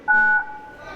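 Two steady keypad touch tones from a telephone dialing 911 during a live clown comedy show, a short loud beep followed by a fainter lingering tone.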